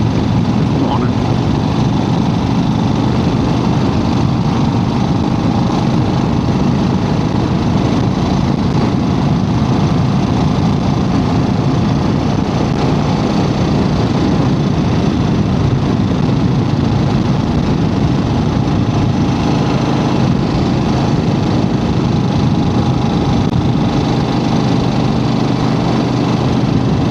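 A 1975 Harley Davidson XLCH motorcycle engine runs steadily on the road, a continuous low rumble with broad wind and road roar, loud and close throughout.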